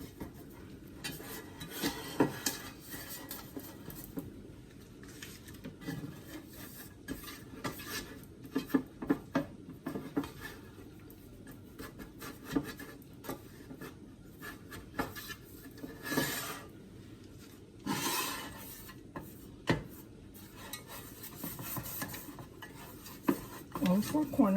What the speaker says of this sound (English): All 4 corners, we want to butter them